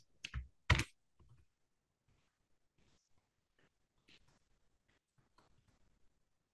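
Typing on a computer keyboard: two louder key strikes at the start, then a sparse run of soft, close taps and clicks in an otherwise quiet room.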